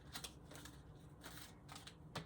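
Tarot cards being shuffled by hand, faint quick papery riffles in short bursts with gaps between, close and quiet.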